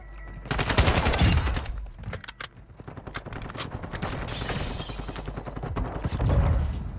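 Rapid automatic gunfire from an online shooter game set in a building, sustained bursts of shots rattling almost continuously with brief dips, loud and close.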